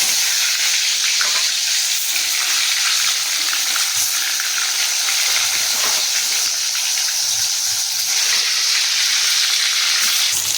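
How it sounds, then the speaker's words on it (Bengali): Eggplant pieces fry in hot oil in a kadai with a loud, steady, bright sizzle that carries on unbroken, along with occasional small crackles and faint stirring noises. "এবার বেগুনগুলো আমি একটা একটা করে ভেজে নেব।"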